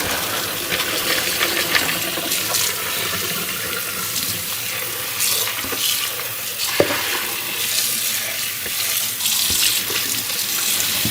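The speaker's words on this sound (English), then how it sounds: "I am going to rinse the peas, and then I'm going to pour them into my colander to drain" Running tap water pours steadily as yellow split peas are rinsed in a kitchen sink, with splashing and occasional knocks and clinks of dishes or a colander, close and continuous.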